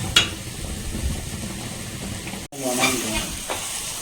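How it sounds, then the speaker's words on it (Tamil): Potato masala sizzles and fries in a pan while a spoon stirs and scrapes through it, a steady close crackle with scraping strokes and a brief break partway through. "ஸோ இப்போ வந்து பார்த்தீங்கன்னா எல்லாம் மிக்ஸ் பண்ணிடலாம்"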